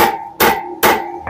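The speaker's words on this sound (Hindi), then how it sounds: "ये सीधा ठोक के ये हमारा ड्रामबुश ऐसे बाहर निकल जाएगा।" A steel screwdriver is hammered against the drum bush of a Honda CG 125, giving three sharp metallic strikes at an even pace, close and loud, each ringing briefly.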